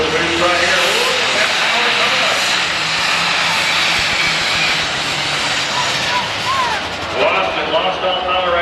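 A Super Stock pulling tractor roars loud and steady at a 1993 NTPA Grand National tractor pull in Canfield, Ohio, its engine building boost with a broad, continuous rushing drone and shifting whine over crowd and commentary.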